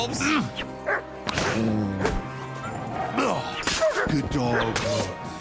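Dog barking and yelping during a wolf fight in the medieval game Kingdom Come: Deliverance II, repeated sharp barks mixed with crashes and snarls, with someone talking over the action.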